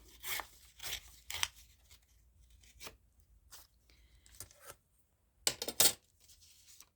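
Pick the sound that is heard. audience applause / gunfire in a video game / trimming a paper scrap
trimming a paper scrap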